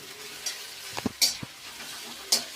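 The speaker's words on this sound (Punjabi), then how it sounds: "ਜਦੋਂ ਸਬਜ਼ੀਆਂ ਹਲਕੀਆਂ ਜਿਹੀਆਂ ਭੁੰਨ ਹੋ ਗਈਆਂ ਫਿਰ ਪਾ ਦਾਂਗੇ ਆਪਾਂ ਇਹਦੇ ਵਿੱਚ ਬੰਦ ਗੋਭੀ" Vegetables stir-fried over a full gas flame for street-style veg noodles, with soft sizzling and scattered scraping and clinking of the utensil against the pan, moderately close.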